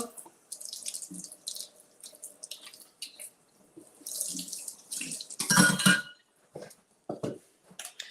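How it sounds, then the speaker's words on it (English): A blender blade is rinsed under a running kitchen tap, water splashing and gushing in bursts against metal and the sink, with clinks and dripping, close and moderately loud. "So I'm going to take the blade out. And we'll rinse this off"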